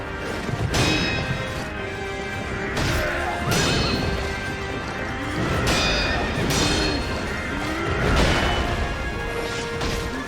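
Repeated crashing impacts and clangs come in rhythmic bursts, with a horse's neighing cry rising between them in a loud fight in the video game Sekiro: Shadows Die Twice.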